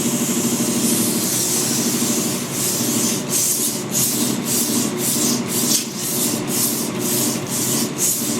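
Steady abrasive rubbing as rust is cleaned from the taper of a lathe chuck on a Harrison lathe, a continuous scratchy scrub with quicker rhythmic strokes building in the second half, close and fairly loud, no voices.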